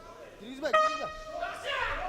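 Boxing gong marking the end of a round at a grand prix bout: one ringing metallic strike that fades out under a commentator's continuous talk and the noise of the arena.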